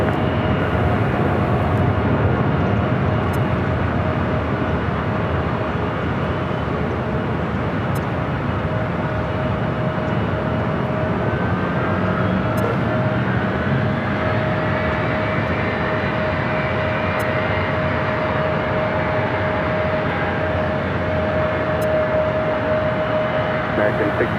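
Airplanes at Los Angeles LAX airport, a loud continuous jet engine roar with a steady high whine running through it, near and sustained throughout, with faint radio chatter in the background.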